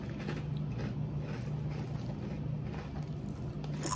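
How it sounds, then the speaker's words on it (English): Close, repeated crunching of a spicy, sugary Korean snack, a dense run of crisp bites and chewing over a low steady background hum. "A good crunch."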